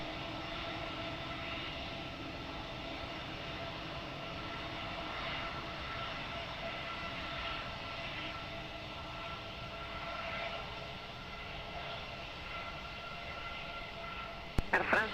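Distant jet airliner on approach to runway 20 at Lisbon Airport, a broad steady engine roar holding for the whole stretch, with brief clicks near the end.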